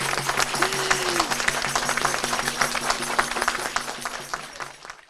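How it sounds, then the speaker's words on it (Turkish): An audience applauds steadily for Akseki at a Yörük Türkmen culture workshop in Antalya, dense clapping that fills the room for about five seconds with a faint voice under it. "Haydi alkışlar Akseki'ye gitsin efendim."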